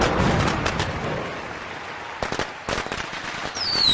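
Fireworks at a park pop and crackle in a few sharp bursts, including a cluster near the middle, over steady outdoor crowd noise, with a whistling rocket rising at the end.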